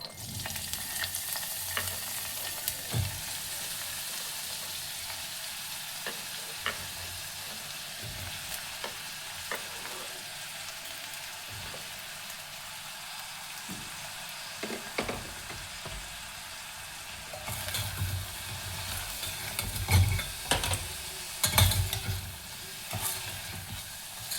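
Finely chopped onion fries in hot oil for a tempering, giving a steady, soft sizzle that lasts throughout, with occasional stirring taps from a spoon against the pan.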